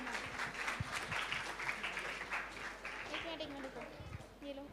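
An audience at a children's naat competition claps as a young reciter is welcomed, moderately loud and steady applause with chatter and voices underneath, thinning toward the end as someone begins speaking.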